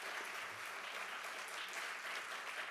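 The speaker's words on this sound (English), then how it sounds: "So a big round of applause." Audience applause at an award ceremony: continuous, even clapping from a sizable crowd, steady and full throughout the short stretch with no voices standing out.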